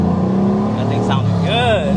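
A deep, steady diesel engine rumble from a Chevy Silverado truck idles and revs slightly, with a higher whining note rising and falling near the end; a voice talks over it.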